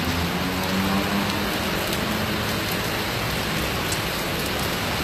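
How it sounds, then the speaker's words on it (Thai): Heavy rain pours down in a dense, loud, unbroken wash of noise that stays constant from start to finish. "ฝนตกมาหลากหลายขนาดนี้"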